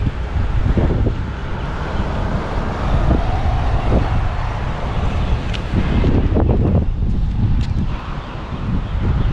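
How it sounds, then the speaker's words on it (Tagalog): Strong wind blowing outdoors in Newcastle, Australia, a loud steady rush buffeting the microphone with gusty surges and faint passing traffic behind. "Ano lang, malakas lang talaga yung hangin."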